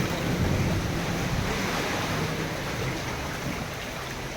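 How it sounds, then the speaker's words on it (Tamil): Floodwater from heavy Chennai rain surges and sloshes like sea waves as a vehicle passes, a loud, continuous rushing wash with no voices. "இந்த வண்டி எதுவும் கிராஸ் ஆச்சுன்னா கடல் அலை மாதிரி தண்ணி வருது."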